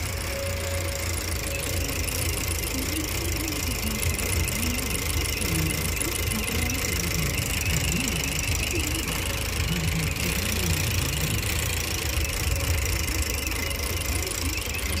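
A 2018 Chevrolet Cruze 1.4L turbo engine idles with a misfire, a steady loud drone with an uneven knocking pulse running through it, close up and without speech.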